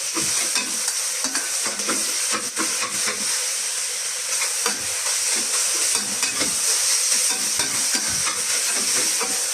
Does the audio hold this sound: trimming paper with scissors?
no